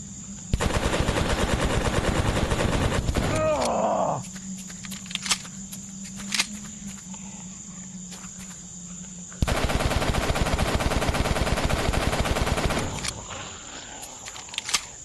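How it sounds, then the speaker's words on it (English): Rapid machine gun bursts in a shooter video game, two long loud sustained volleys with a quieter stretch of lighter shots and a steady hum between them. "Machine gun."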